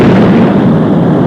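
A rocket's first stage separates in a TV puppet show sound effect: a loud, continuous roaring rumble, dense and close, with no talk over it.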